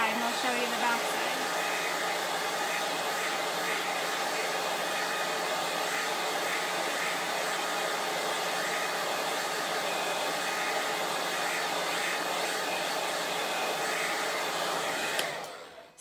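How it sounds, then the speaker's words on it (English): A heat tool blows steadily to heat-set chalk paste on a Christmas craft, making a loud, constant hair-dryer-like whoosh for about fifteen seconds before cutting off at the end. "I'm gonna heat set it"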